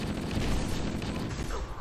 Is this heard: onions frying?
no